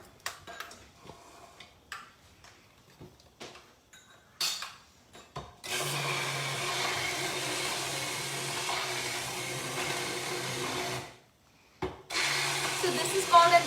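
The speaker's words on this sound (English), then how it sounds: "I'm gonna just blend it a little bit more." An immersion blender whirs steadily for about five seconds while blending food in a home kitchen, stops briefly, then starts again; quiet handling noises come before it.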